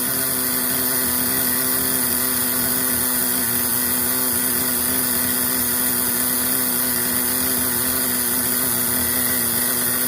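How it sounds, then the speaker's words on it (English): A small engine idles steadily, a constant mechanical hum with no change in pace throughout and no voices. "A really good idling little motor."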